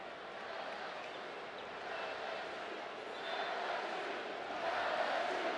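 A college football stadium crowd at a Florida Gators vs LSU Tigers game sends up a broad, steady roar that swells louder toward the end. It builds on third and long, with no distinct voices standing out.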